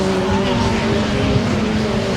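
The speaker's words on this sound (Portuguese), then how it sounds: "Passa o carro número 11 do Tarquini." A WTCC touring race car, number 11, passes at speed on the track during the 2008 Curitiba race, its engine a steady loud drone with strong harmonic tones throughout.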